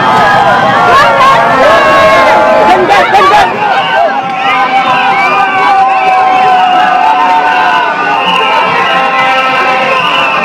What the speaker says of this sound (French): le chef de l'État a eu droit à un bain de foule.